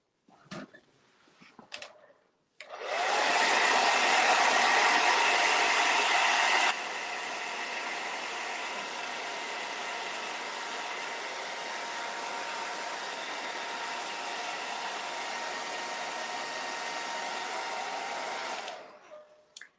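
A hair dryer blows steadily for about sixteen seconds while drying a craft door hanger, loud and close with a broad airy roar that drops slightly in level partway through, after brief handling noises.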